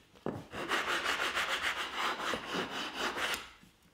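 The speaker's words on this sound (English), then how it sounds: "Here I'm using the bandsaw to put a slight taper at the bottom of the leg." A bandsaw cuts a slight taper into the bottom of a wooden table leg, producing a loud, steady rasping buzz with rhythmic pulses lasting about three seconds before tapering off.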